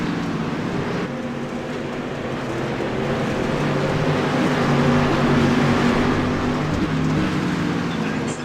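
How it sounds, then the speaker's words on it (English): Several race car engines roar together around the Limaland dirt track during a Wednesday night street stock feature, a loud, steady, dense drone with layered harmonics that swells toward the middle. "Engine sounds are overpowering us."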